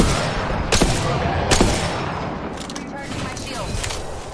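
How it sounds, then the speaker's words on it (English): Video game gunfire with a few sharp close shots followed by a quicker rattle of rounds over steady battle noise, while a player talks throughout. "Being shot at."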